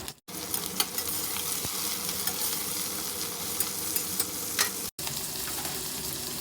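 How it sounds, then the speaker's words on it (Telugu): Cauliflower pieces and golden onions frying in oil, a dense steady sizzle with occasional scraping clicks as they are stirred in the pan. "ఆనియన్స్ మనకి ఇలా గోల్డ్ కలర్లోకి వచ్చిన తర్వాత ఈ కాలీఫ్లవర్ ముక్కలు కూడా వేసేసుకొని ఒకసారి బాగా"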